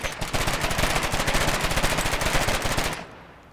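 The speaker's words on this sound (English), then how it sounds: "There's a lot of shooting going on." Machine gun fire in the video game Foxhole: one loud, continuous rattling burst of rapid shots for about three seconds, then a sudden stop into a fading tail.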